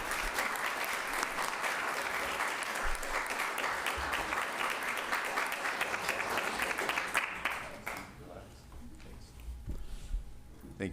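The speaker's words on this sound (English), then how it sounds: "if you wouldn't mind giving my dispatchers a great round of applause" A crowd at a Rialto city council meeting applauds the city's dispatchers in a steady, dense round of clapping that carries for about seven seconds before thinning out and fading into quieter room sound.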